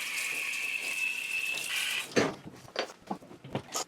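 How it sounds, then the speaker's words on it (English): Hot water from a tap rinses a part from a vintage Whirlpool Calypso washer, a steady hiss for about two seconds, then broken splashing and spattering as the stream hits the part. "I could just hit it with some hot water and get it cleaned up"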